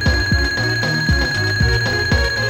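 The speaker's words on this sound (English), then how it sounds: "Sounding the alarm for Smithy." A video game alarm rings out during a boss battle against a countdown-clock boss, with repeated ringing bursts roughly every half second over steady high tones and game music.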